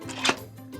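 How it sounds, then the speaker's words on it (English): A lid placed onto a multi-cooker pressure cooker and the vent sealed, one short clunk of plastic and metal followed by faint handling, close by and alone. "Now the lid goes on. I'll seal the vent,"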